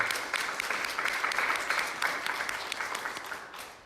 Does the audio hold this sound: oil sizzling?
no